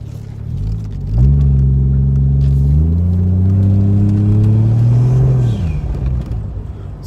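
A Ford Mustang Fox Body with a swapped 1JZ engine revs up hard and holds a loud, steady drone for several seconds before easing off, close by with no talk.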